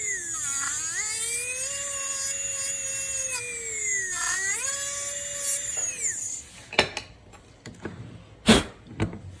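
A dental handpiece with a bur trims a denture tooth, the upper central incisor, on a wax set-up, giving a close, high-pitched whine that swoops in pitch, then stops, followed by a few sharp clicks and taps.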